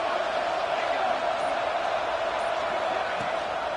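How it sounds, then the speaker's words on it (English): A football stadium crowd roars to urge on the defense near the goal line, a dense, steady wash of noise that fills the whole stretch, with a voice speaking over it. "here comes the noise. This crowd is trying to inspire this defense to make a big red zone stop."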